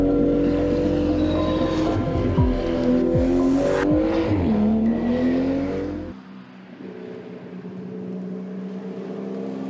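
A Porsche 935 race car drives past loud and close, its engine pitch rising and falling through gear changes, then cutting off abruptly and leaving a quieter, lower rumble.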